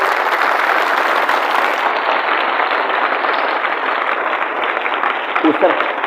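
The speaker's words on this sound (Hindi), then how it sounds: "जोरदार तालियां बजाइए।" An audience at a foundation award ceremony applauds, the dense, continuous clapping loud and sustained throughout, with a brief voice breaking through near the end.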